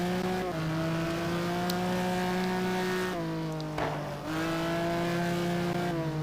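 The engine of a Ferrari 550 GT1 car seen from the cockpit in a sim racing game at Road America, a loud, steady close-up drone with clear pitch drops at gear changes and a brief lift off the throttle.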